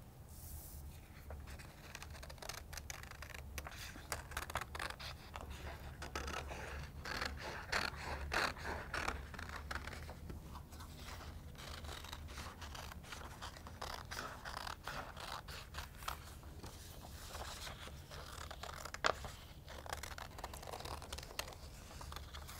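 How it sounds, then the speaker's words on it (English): Scissors cut out a printed image from a sublimation template, giving a steady run of quiet snipping and paper-crinkling scratches, close by, with no talk. "What we're going to do first is cut out our image."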